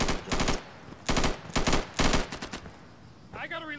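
Machine gun fire in the video game Insurgency: three loud, close bursts of rapid automatic shots with short pauses between them, followed by quieter sounds at the end.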